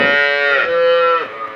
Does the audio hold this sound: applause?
no